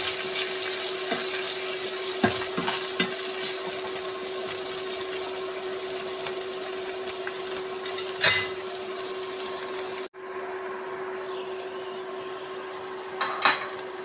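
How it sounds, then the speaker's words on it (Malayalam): Onion and curry leaves sauté in a pan with a steady low sizzle and occasional scraping stirs, a faint constant hum beneath and a brief dropout partway, no talking. "കറിവേപ്പില, സവാള. നന്നായി ഒന്ന് വഴറ്റിയെടുക്കാം."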